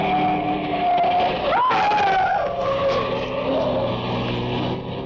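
A car starts up and drives off down a street in a radio drama, a loud engine rumble with a sudden revving surge partway through, then a steady drone slowly fading.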